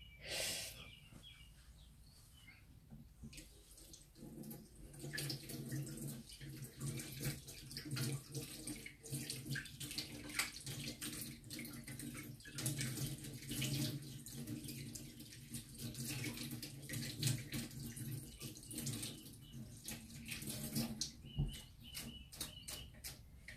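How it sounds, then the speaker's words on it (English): Tap water runs steadily into a sink while fingers are washed, a long close splashing flow with shifting intensity as hands move under the stream, and no speech. "I'm just going to wash my fingers first"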